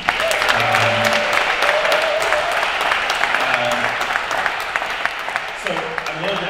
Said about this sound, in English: So one more round of applause to everyone.